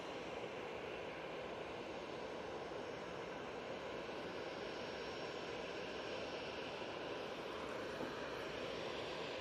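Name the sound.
British Airways Airbus A321neo arriving at Manchester Airport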